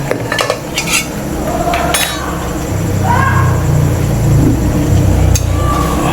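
Meat being stirred in a cooking pot with no added oil, only its own fat, as a utensil clinks and scrapes against the pot; a few sharp metallic clinks come first, then a steady sizzling scrape continues underneath.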